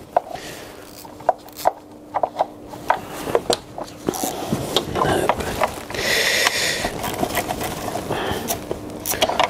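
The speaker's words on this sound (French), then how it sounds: "Je suis en train de desserrer tous les vis" Ratchet loosening the screws on a PSA 1.6 HDi DV6 engine during timing belt work, heard as sharp separate clicks at first, then a denser run of clicking and scraping, close by and with no voices.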